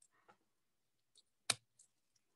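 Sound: scissors cutting floral stems

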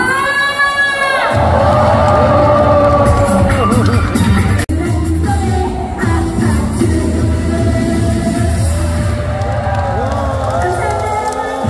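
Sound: festival crowd clapping and cheering

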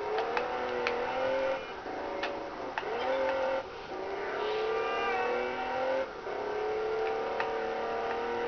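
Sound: car rally driving in Test Drive Unlimited video game

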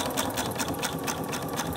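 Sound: sewing machine stitching concave and convex quilt curves

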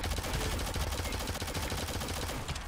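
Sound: shotgun firing in video game Shadowgun Legends

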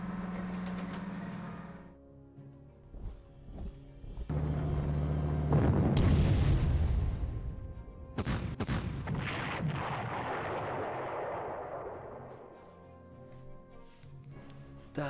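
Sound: artillery fire in the video game Panzer Corps

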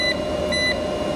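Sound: beeping during solar inverter LV6548 test

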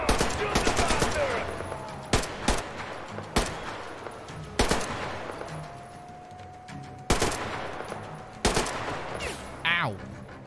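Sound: gunfire in Metro Exodus video game

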